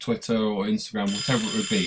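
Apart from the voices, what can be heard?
alarm sounding to mark ten minutes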